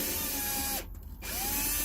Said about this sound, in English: Thank goodness for this drill. It's got a high speed and a low speed.